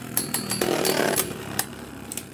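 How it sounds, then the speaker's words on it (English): Beyblade Burst spinning tops, QuadDrive and QuadStrike generations, skidding and scraping against each other in a plastic stadium, giving a loud, continuous grinding rasp with several sharp clacking hits. "Uh-oh, skidding out big time. Both bays are. It being so low and the tapered scraping."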